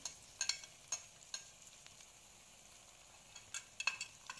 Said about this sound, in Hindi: अब हम स्पून की मदद से इन स्पाइसेस को अच्छी तरह से मिक्स कर लेंगे और मसाले को हमने भून लेना है।